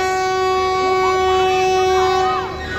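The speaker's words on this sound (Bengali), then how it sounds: "ট্রেনও দিয়ে দিয়েছে।" At a busy railway station platform, a long-distance express train sounds a loud, sustained, tonal horn that rings close and steady for over two seconds before easing off.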